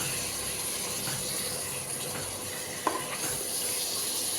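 Onions with curry masala powder sautéing in a pan for eggplant biryani, a steady soft sizzle with faint stirring scrapes and one brief clink, no voices.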